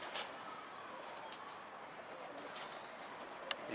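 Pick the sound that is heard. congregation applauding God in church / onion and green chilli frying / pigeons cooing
pigeons cooing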